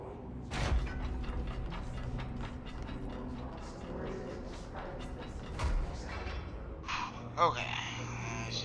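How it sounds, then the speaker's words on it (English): A heavy mechanical door shuts in the video game Control, with grinding gear-like creaks and clunks under a steady game ambience, ending in a soft thud and a brighter tonal hum. "It's just the door shutting back now."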